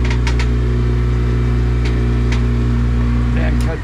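A Yamaha F70 outboard on a 2017 Hewescraft 160 Sportsman drones loudly and steadily up close as throttle is added during a water test, easing off right at the end.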